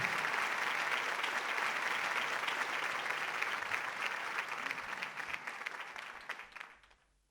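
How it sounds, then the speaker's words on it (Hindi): Loud, dense applause from a crowd at a mushaira award ceremony in Dubai, sustained for several seconds before gradually fading out. "ज़ोरदार तालियां वो बजाइएगा कि हम दिल से इनका सम्मान करते हैं"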